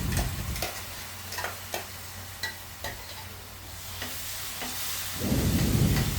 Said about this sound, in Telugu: మసాలాలు మాడిపోకుండా ఆనియన్స్లోనే ఫ్రై అయ్యేంత వరకు చూసుకోవాలి.